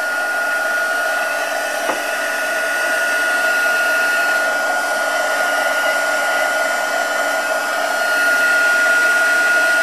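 A heat gun blows steadily with a constant whooshing whine, loud and close, holding the same pitch throughout with one small click.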